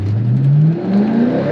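A C5 Corvette Z06 on new tires accelerates hard, its engine note rising loud and close, dipping at a quick gear change, then climbing again.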